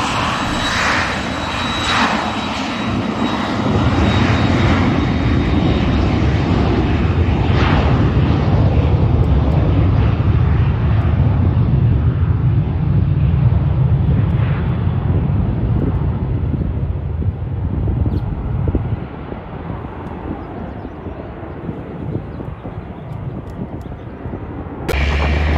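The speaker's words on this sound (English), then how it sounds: "Cessnas and other light airplanes have absolutely no trouble taking off here." A Cessna or similar light airplane's engine roars loudly and steadily as it takes off from Palomar Airport, the drone holding for a while before easing off toward the end.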